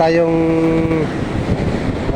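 Strong waves and gusting wind on a beach in the Philippines produce a loud, rough, continuous roar with microphone buffeting, and a voice talks at the start.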